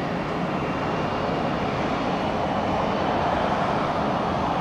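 A Boeing 737-800 MAX airliner on an international flight to Cuba passes overhead as a steady, loud broadband roar that swells slightly toward the end, with no voices.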